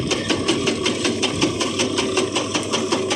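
An electric chaff cutter runs loud and close with a steady mechanical drone and a rapid rhythmic chopping pulse throughout.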